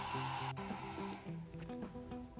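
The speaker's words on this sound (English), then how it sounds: "They also recommended using a hair dryer" Steady whirring blow of a hair dryer drying Black 3.0 paint, running continuously nearby, its pitch wavering slightly.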